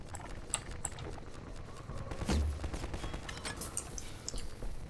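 Strider gunfire in the Half-Life 2 video game: rapid bursts of shots and mechanical clatter at moderate loudness over a busy background, with a stronger cluster of impacts in the middle.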